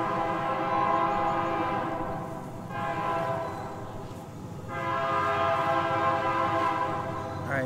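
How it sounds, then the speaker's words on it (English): A long freight train passes close by, its horn blaring in long sustained blasts over a heavy rumbling roar, with brief pauses between blasts. "let's wait for this train to go by"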